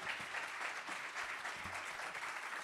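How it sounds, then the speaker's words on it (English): Warm round of applause from a panel-event audience, steady and moderately distant, with scattered low thumps but no voices. "Please join me in giving her a warm round of applause."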